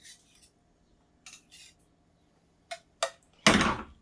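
Pasta being mixed with a cheese bechamel sauce, a few scattered metal utensil taps and scrapes against a pot, ending in a louder, longer scraping stir, with quiet pauses between.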